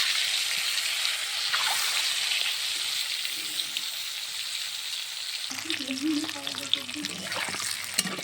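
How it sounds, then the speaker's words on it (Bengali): Eggs frying in hot oil with a little turmeric, a loud continuous sizzle that stays steady throughout, with a low hum entering partway and brief faint sounds near the end. "তেলটা গরম হলে ডিমগুলো ভেজে নেব।"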